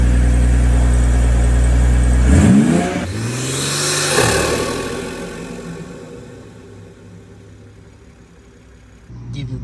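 A BMW G42 M240 with a newly installed intake idles loudly up close, then revs sharply twice with a rising roar and falls back to a lower, settling idle before another throttle blip at the end.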